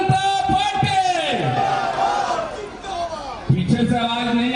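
At a Bharatiya Janata Party street rally, a large crowd loudly chants a party slogan in unison, answering an amplified leader's call in surging, echoing bursts of massed voices.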